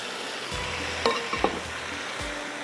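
Chicken with browned onions and added stock cooks in a pan with a steady sizzle, broken by a few clinks and scrapes of a spoon stirring, close and alone with no voices.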